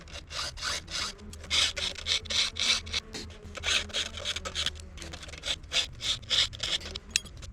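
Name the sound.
filing a chainsaw chain by hand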